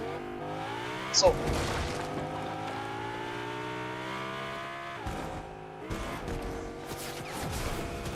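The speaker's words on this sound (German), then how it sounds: "Ich gehe jetzt ins Auto" A car engine hums and shifts pitch while driving in the video game Fortnite, with a sharp impact near the start and steady motor drone throughout; people talk over it.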